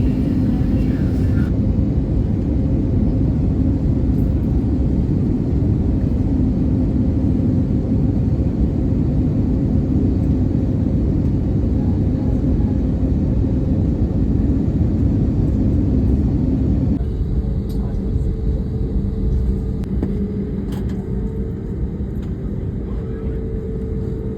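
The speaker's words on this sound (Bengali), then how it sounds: "এই যে দেখো আমরা এবার ল্যান্ড করব কলকাতাতে" Inside the cabin of a Bangalore to Kolkata passenger flight on its landing approach, a loud, constant engine and airflow rumble fills the whole stretch and shifts to a slightly different tone partway through.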